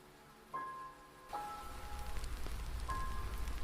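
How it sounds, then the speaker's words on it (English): Rain beating down steadily, building from a light patter to a heavier, denser downpour, with a few sustained tonal chimes sounding over it early and near the end, no voices. "As the rain intensified and began leaking into the house"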